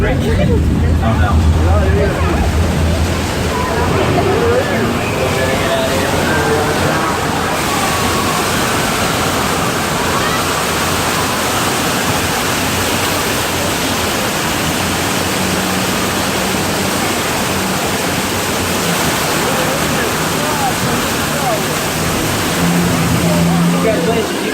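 In a Universal Studios earthquake ride effect, loud rushing flood water from a burst pipe roars in a steady broadband wash. Crowd noise and voices sit underneath it for the whole stretch.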